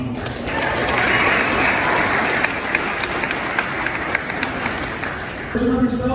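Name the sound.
audience round of applause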